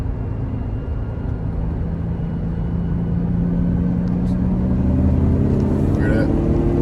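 A stock Infiniti G35 sedan with a six-speed manual has a hollow-sounding exhaust from its catalytic converters. The engine drones loud and steady from inside the cabin, and its pitch climbs slowly as the car accelerates.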